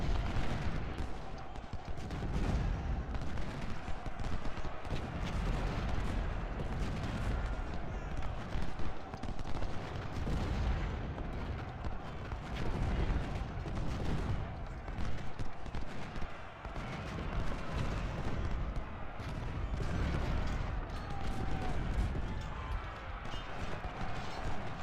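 Musket volleys and battle noise from the Civil War strategy game Ultimate General: Civil War roll on continuously as dense crackling gunfire and dull booms, fairly loud, with someone talking intermittently over them.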